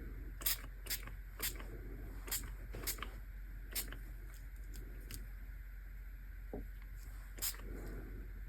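Distress Oxide spray is pumped over a craft stencil in about a dozen short, quiet spritzes spaced at a loose, uneven rhythm.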